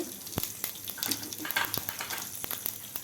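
Whole cumin seeds hiss and sizzle in hot oil, a faint, uneven frying crackle with a few sharp pops scattered through.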